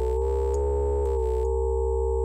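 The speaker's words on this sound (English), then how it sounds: "That click is because it's looping it." A steady synthetic buzzing tone from a modular synthesizer waveform repeats in a loop, with faint clicks marking each restart; no voices.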